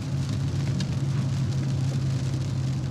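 Steady rain patters on a car during a hard acceleration run, a dense continuous hiss with a low droning hum underneath, fairly loud and unbroken.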